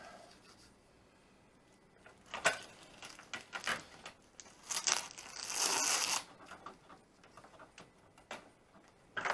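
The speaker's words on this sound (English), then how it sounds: "We can start peeling this tape off." Tape being peeled off a repaired fiberglass door panel, with bursts of ripping and crackling that come and go, loudest in a long tear near the middle and shorter pulls before and after, close up.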